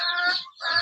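Backyard chickens raised at home make two close, fairly loud clucking bursts with a short break between them and no talk.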